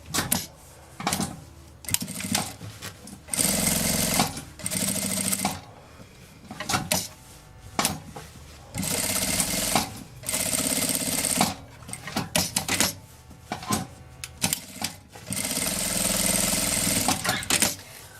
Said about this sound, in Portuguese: aqui eu vou passar uma costura na beiradinha, em volta